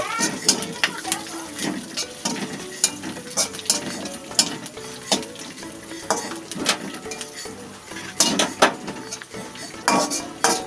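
Chopped coconut frying in oil in a pan with green chillies, a loud close sizzle punctuated by frequent scraping and clinking of a spatula stirring against the metal.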